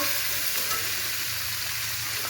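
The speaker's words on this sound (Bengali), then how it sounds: "সবজিগুলো এই তেলেই ভেজে নেব" Chopped pointed gourd, drumstick and potato fry together in hot oil, giving a steady, close, fairly loud sizzle that holds evenly throughout with no talking.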